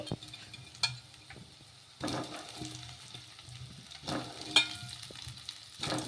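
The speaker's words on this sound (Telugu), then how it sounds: "ఇలా ఈ పచ్చిమిర్చి ఇవన్నీ కూడాను కొంచెం ఫ్రై కావాలి." Green chillies and other tempering frying in a pan for goli idli: a low, steady sizzle broken by spatula scrapes and stirring bursts, close but fairly quiet, with no talk.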